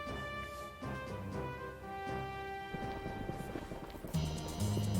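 Horse-racing video game hoofbeats from Gallop Racer patter quickly under a sustained musical tone, with a sharper burst of galloping noise near the end.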